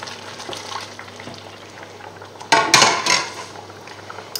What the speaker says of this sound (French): Même principe, on remue.